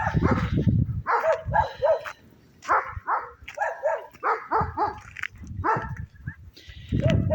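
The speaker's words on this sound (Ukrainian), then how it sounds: "бо ті собаки гавкають, нічого не чути" Several dogs bark in repeated bursts with yips and whines between them, fairly close and filling the whole stretch.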